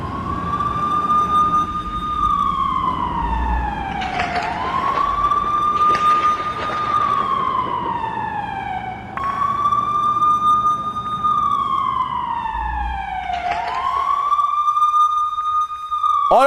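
A loud air raid siren wails continuously in Jenin, its pitch rising and falling in slow sweeps that repeat several times, dominating the scene.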